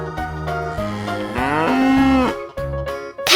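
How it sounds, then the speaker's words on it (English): A cow gives a single drawn-out moo, loud and close, rising and falling over a few seconds, with other sounds briefly around it. "Cow."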